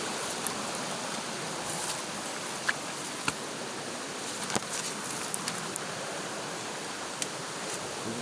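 Water from a small mountain stream tumbling down from above over large rocks, a steady broadband rushing close by with no talk.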